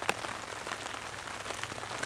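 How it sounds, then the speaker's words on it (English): Rain patters steadily on a plastic grocery bag and tarp above a camera in the woods, a dense close crackle of drops with a few sharper taps, fairly faint. "the rain hitting that grocery bag, that plastic bag above my camera or my tarp"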